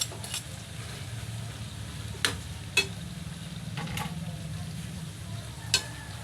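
Upo (bottle gourd) being stirred with sardines in a pot, a soft, steady sizzle and bubbling with a few sharp clicks of the utensil against the pot.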